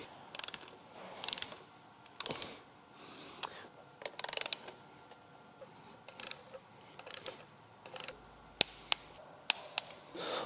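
A ratchet tightens engine head screws on a Renault Mégane RS, giving close, crisp clicking bursts in repeated strokes with short pauses between them, and no voices.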